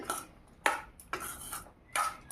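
Aloo kabli, a spiced potato snack, is stirred and mixed in a bowl: four close, crisp clinks and scrapes of a utensil against the bowl, spaced irregularly, with no voices.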